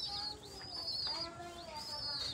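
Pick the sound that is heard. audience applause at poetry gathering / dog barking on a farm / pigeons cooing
pigeons cooing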